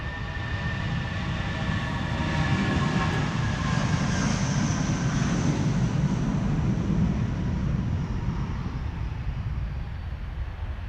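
An SAS Airbus A319 jet departing Amsterdam Schiphol for Copenhagen, its engines producing a loud, steady broadband roar that swells slightly and then eases, heard from the airport surroundings with no speech.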